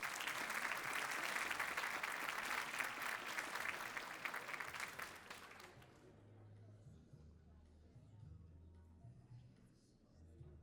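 An audience at an executive awards launch applauds honorees for about six seconds, with dense sustained clapping that then stops abruptly, leaving quiet room tone and low murmuring.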